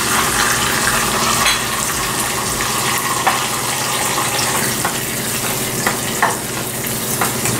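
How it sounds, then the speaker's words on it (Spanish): Onion and garlic fry in a pan with a loud, dense, crackling sizzle that runs throughout, with occasional sharper pops and light stirring noises, near and unaccompanied by speech. "vamos a freír nuestra cebolla y nuestro ajo"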